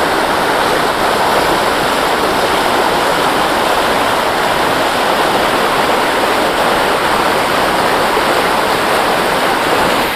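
A forest river rushes loudly and continuously, a dense, steady roar of flowing water with no breaks and no voices.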